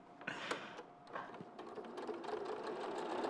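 A sewing machine stitching a dart under the chin of a garment, running in quick mechanical bursts that speed up into a steady whirring rattle, close and fairly quiet, with faint voices in the background.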